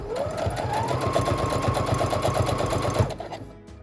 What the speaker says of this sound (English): So I am gonna sew that